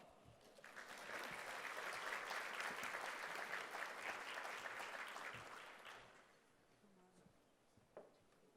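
An audience applauds award recipients at a World Trade Week ceremony, a full burst of clapping that swells, holds steady for several seconds, then fades into a quiet room with a few stray claps at the end.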